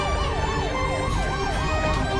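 An ambulance siren wails in a repeating rising-and-falling pattern, steady and fairly loud over a low vehicle rumble.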